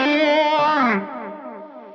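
Electric guitar through a modulation effect, a sustained distorted chord that wavers and shimmers as it swirls, then drops into a softer decaying ringing tail. No voices are heard.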